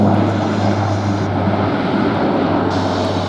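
A Super Decathlon propeller plane flies overhead at an airshow at Maxwell AFB in Montgomery, Alabama, its engine droning loudly and steadily with a low hum throughout, no talk.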